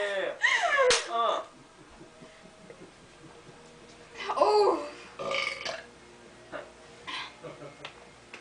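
Loud, close belches from two people competing in a burping contest, coming in separate bursts with quieter gaps and some voices in between.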